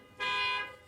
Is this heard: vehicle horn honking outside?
yes